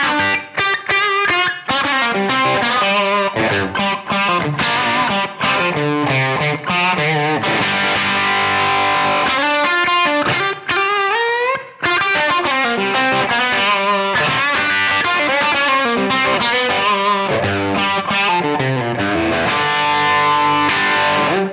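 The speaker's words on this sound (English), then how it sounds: "mid-focused, lots of attack British blues tone" Electric guitar through a Tube Screamer overdrive plays a bluesy riff up close, a crunchy, mid-heavy British blues tone with sharp picked attack, continuing with only a brief pause midway.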